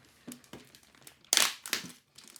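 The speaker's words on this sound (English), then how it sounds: "let's go ahead and open up this clear plastic packaging" Clear plastic packaging being opened, sealed flap peeled and torn apart: a run of close crinkles and rustles with a louder tearing crackle in the middle.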